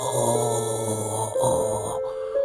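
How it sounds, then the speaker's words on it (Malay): A man groans in a low, drawn-out voice as an eerie sound effect, steady for about two and a half seconds over a high ringing drone, with no speech. "Suara orang mengerang."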